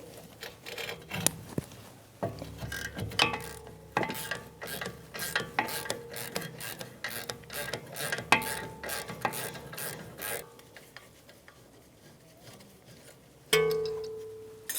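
A 17mm wrench loosening the top caliper bolt on a Jeep Renegade rear brake, a series of close metallic clicks, ratcheting and rubbing scrapes at irregular intervals, fairly quiet.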